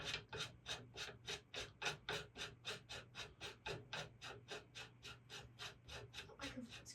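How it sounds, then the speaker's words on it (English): A factory muzzle brake is threaded by hand onto the barrel of a Tikka T3x TAC A1 rifle, making a quiet, close, evenly repeating metallic rasp of about three strokes per second with no talking. "We're going to install the factory muzzle brake."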